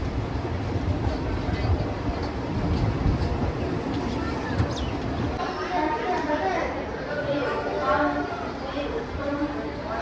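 The Puri-Tirupati Express pulls into platform 1 at Rajahmundry station, a steady low rumble and rolling rattle of the carriages throughout, with passengers chattering nearby.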